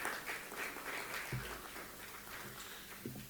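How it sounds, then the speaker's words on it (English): Round of applause from a conference audience at a waste-industry event, a dense steady patter of many hands filling the whole stretch at moderate level, with no talk over it. "Round of applause."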